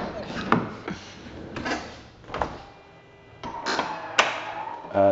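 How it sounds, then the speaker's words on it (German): A camper van's sliding door fitted with a soft-close aid is opened and shut several times, giving a series of knocks, rolling slides and latching thuds at close range, with people talking in between. "Machen wir nochmal die Tür auf und zu."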